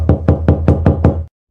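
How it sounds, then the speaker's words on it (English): Six firm knocks rap on a door at a steady, even pace, close and loud, then stop abruptly into silence. "The second knock jolted out whatever grogginess I had left in my system."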